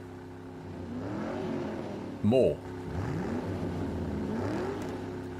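Engines of tugboats pulling against a ship in a video game, a low humming drone with rising tonal sweeps, heard under a speaking voice with a short loud burst in the middle.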